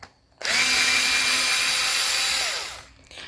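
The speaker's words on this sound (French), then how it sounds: "Voilà, on dévisse les 4." A power screwdriver backs out oxidised screws from an old Legrand switch, making one loud, steady whirring run of about two seconds that starts and stops abruptly.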